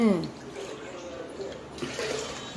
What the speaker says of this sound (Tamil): இப்போ இதில் வந்து நான் அஞ்சு டம்ளருக்கு நானே பால் விட்டுக்கிறேன்